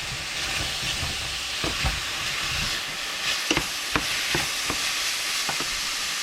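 Pig's feet cook in a large saucepan with a steady loud sizzle and frying hiss, broken by scattered stirring knocks and scrapes from a utensil, close and continuous without any voices.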